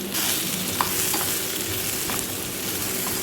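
Fried potato and carrot cubes being stirred with turmeric powder in a pan, a loud, continuous sizzle with light scraping and a few faint spatula taps, close and steady throughout.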